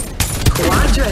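Gunfire in the video game Treasure War: a quick burst of shots over about a second, loud and close, with a game voice or speech-like sounds mixed in around the firing.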